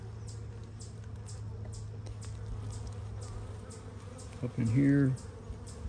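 Honeybees hum steadily inside an opened beehive during an inspection of capped brood and a queen cup, a continuous low drone with a man's brief speech near the end.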